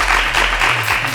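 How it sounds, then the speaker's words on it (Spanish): An audience claps for a visitor named Emiliano on a Spanish-language TV program about creativity, a loud, dense burst of applause that lasts about a second under a low background hum. "Un aplauso por la visita de Emiliano."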